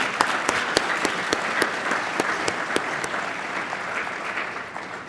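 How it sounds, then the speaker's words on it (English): A gala keynote audience applauds in a full, sustained round, with several sharp nearby claps standing out over the dense crowd clapping before it gradually eases at the end. "ask for another round of applause for a very well done."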